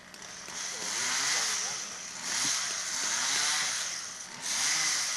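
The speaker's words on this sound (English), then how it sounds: "The background, you hear the chainsaw, that's the man cutting down that tree" A chainsaw cutting up a felled tree at a water tower demolition site, droning steadily in the background with rising and falling revs in three long bursts, with a faint voice underneath.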